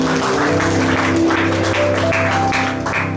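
A church congregation claps in a steady wash of applause over sustained musical tones, filling the room at close range for a few seconds.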